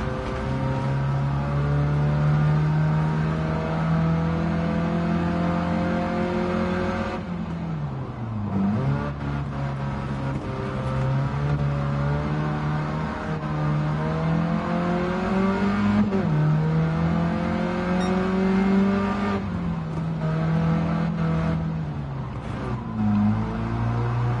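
Front-drive car engine in the racing game Gran Turismo 7, a loud, steady droning whine that rises and falls in pitch as the car revs and shifts through gears, with no voices over it.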